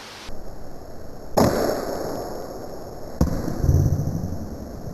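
Rubber-powered crossbow fires with a sharp snap near the one-and-a-half second mark, then a second crack follows with a thud-like impact, all heard close over steady outdoor background noise.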